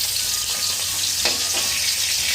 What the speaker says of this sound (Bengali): এই মাছ ভাজতে গেলে না মাঝে মাঝে কিন্তু তেল ছেটাই বন্ধুরা